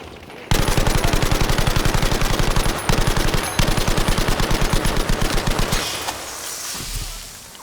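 A support machine gun fires in Battlefield V's Solomon Islands jungle level, a loud, steady automatic stream of rapid shots with one brief break. It then cuts off into a quieter tail.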